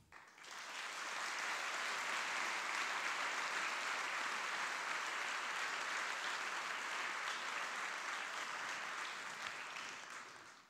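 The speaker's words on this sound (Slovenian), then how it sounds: "danes jo pa lahko nagradimo vsaj z aplavzom" Audience at a women's awards ceremony breaks into sustained, dense applause that swells in quickly, holds loud and even for about ten seconds, then tapers off.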